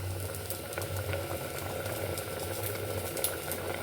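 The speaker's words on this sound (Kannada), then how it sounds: "ಬೇಳೆ ಎಲ್ಲ ಮೆತ್ತಿ ಬೆಂದಿದೆ ನೋಡಿ." Pot of avare bele (lentil) saaru at a steady boil on a stove, a continuous close bubbling and popping simmer with a low hum underneath, no voices.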